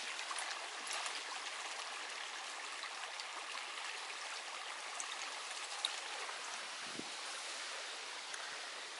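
A burbling creek in a shady wooded spot beside a small tiny-house orchard flows steadily, a continuous close wash of water with no pauses or voices.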